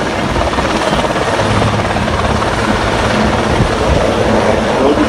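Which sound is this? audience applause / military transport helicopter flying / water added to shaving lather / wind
military transport helicopter flying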